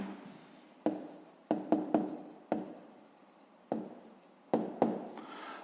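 Numbers get written down for a fifth-grade maths exercise: pen strokes scratch close up in uneven bursts, about nine in all, with no talk.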